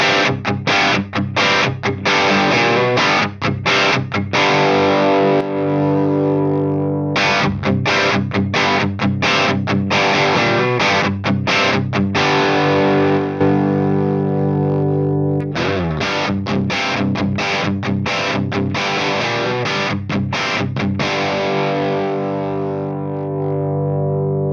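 Electric guitar played through a Marshall Vintage Modern amp with the master volume around 9 o'clock, giving loud, crunchy distorted chords strummed in choppy rhythmic bursts that pause and restart across three phrases, with no talking.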